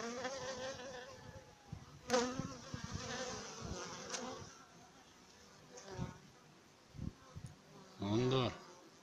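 Honeybees buzzing close by while bees are being moved into a hive: a dense, wavering hum with louder passes, and a voice speaks briefly in the background.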